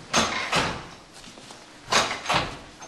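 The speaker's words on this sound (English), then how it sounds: "Check it out. Breakaway doors." A breakaway door in a performing arts center swinging open and shut, giving two pairs of soft thuds separated by a short pause in a quiet interior.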